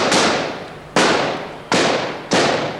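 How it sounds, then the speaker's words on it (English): Army gunfire aimed at demonstrators and a film crew cracks out in four sharp, loud reports spaced under a second apart, each ringing out and fading before the next. "More gunfire even as we scrambled for our car."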